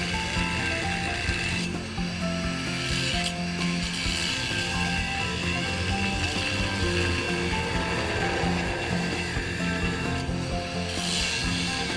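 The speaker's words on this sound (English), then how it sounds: "Using a thin blade, cut the surface to be drilled 1/8 inch deep through the hard surface of the lid." A thin blade saws and scrapes through the hard surface of a lid, producing a continuous gritty, ratcheting rasp with repeated strokes, close and steady.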